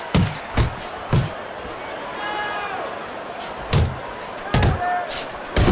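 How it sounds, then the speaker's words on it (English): Heavy thudding punches land in the Fight Night Champion boxing game, several sharp slams spaced irregularly over crowd murmur and a commentator's voice. "Good shot to the body by Bishop."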